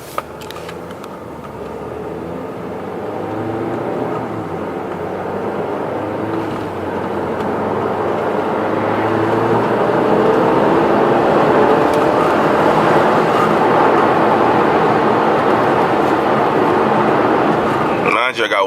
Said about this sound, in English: Now we're gonna just take it on a nice little calm drive.